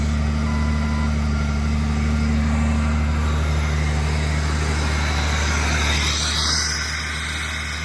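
Engine of a 2001 Jeep XJ (Cherokee), two-wheel drive being converted to four-wheel drive, idling too fast: a steady, high, even hum with a constant drone, close and continuous, easing slightly near the end.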